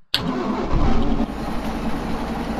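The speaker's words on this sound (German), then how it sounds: "Starten wir den Motor mal." A Jelcz M121MB bus engine in the OMSI bus simulator game starts with a sudden crank and catch, then settles into a loud, steady rumbling idle with a brief rise in revs, no voices.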